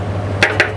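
Two sharp metallic clinks, about a fifth of a second apart, from a utensil against a pan while stirring sausage in a thickened soy sauce, heard over a steady low stove hum.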